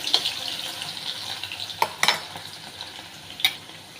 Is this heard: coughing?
no